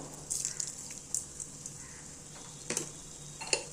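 Crab gravy simmering in a pan: a faint, quiet bubbling and soft sizzle, with a few brief pops and stirring clinks scattered over about four seconds.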